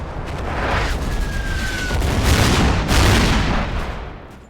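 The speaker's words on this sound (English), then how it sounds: "Both tanks spot each other. Panther shoots first and hits a tree." A German Panther tank fires its cannon in the Combat Mission war game near Aachen, a deep rumbling boom that swells and rolls on with a second heavy report, loud and close with no talk.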